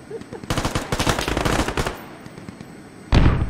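Rapid machine-gun bursts ring out in the military shooter game Squad: a fast rattling string of close, loud shots for about two seconds, then a short pause and a single heavy blast near the end.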